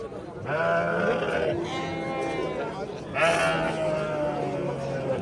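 Goats and sheep bleat at a busy livestock market, with two long, wavering calls close by and people talking underneath throughout.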